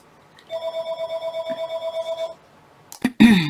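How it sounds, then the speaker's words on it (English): A house phone rings in a pulsing electronic trill lasting about two seconds, fairly close and clear, followed by brief bumping and handling noises. "Yes, that was a house phone"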